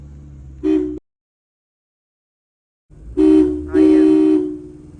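A vehicle horn honks loudly nearby: one short blast, a pause, then two longer blasts in quick succession over engine rumble.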